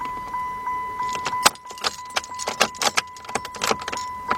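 Car keys jangle in the ignition of a 2008 Dodge Avenger 2.4 as the jammed ignition switch is worked toward the lock position. A run of sharp metallic rattles and clicks sounds close up and grows busier, with no talk.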